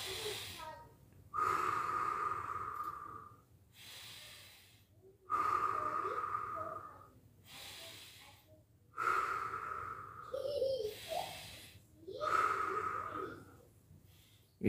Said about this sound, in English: Now the back breathing.